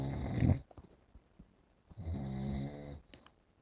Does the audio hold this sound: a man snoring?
yes